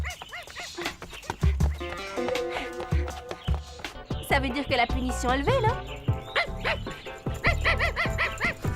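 Cartoon dog barks and yelps in a French animated series, loud and up close, mixed with music and overlapping voices of people talking.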